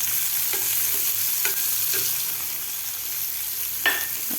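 Chopped onion frying in a pan with garlic for a peanut and raw mango chutney, giving a continuous soft sizzle broken by a few clinks of a spoon stirring, the last one slightly louder.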